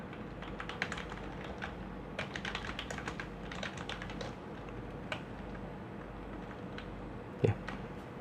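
Rapid clicking of a computer keyboard, irregular bursts of keystrokes, soft and close against a quiet background hum.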